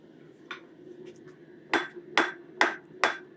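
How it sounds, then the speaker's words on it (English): A hammer strikes metal stock to upset it, driving the material back on itself to thicken and shorten it while forging a bird feeder hanger. A couple of lighter taps come first, then four loud, ringing blows land at an even rhythm. "it's hammering the material back on top of itself. And so it kind of thickens it and shortens it"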